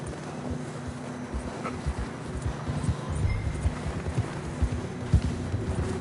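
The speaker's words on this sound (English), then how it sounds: "John was riding that horse when we left Blackwater." Horse hooves clip-clop at a steady trotting rhythm in the video game Red Dead Redemption 2, over a low windy rumble, continuing throughout with no voices.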